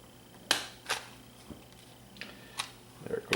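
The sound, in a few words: prying apart plastic Harmony 880 remote casing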